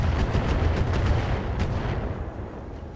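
Mech weapons firing in the Battletech game, a dense, continuous rumble of booming shots and heavy impacts that rolls on steadily and fades slightly toward the end.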